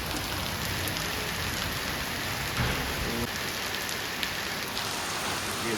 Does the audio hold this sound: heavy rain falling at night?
yes